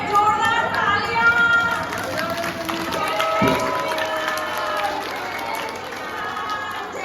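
An audience at a Ram Katha religious gathering claps and cheers together, a sustained crowd applause rising and slowly fading, with a voice speaking over it.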